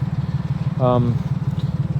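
A Honda Acty kei truck with an aftermarket exhaust idles close by in a steady, lumpy pulsing rhythm, while a person speaks briefly over it.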